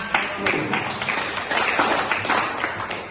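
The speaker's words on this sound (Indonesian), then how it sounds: "Tepuk tangan." A classroom audience claps steadily and loudly throughout, a sustained round of applause with a faint voice underneath.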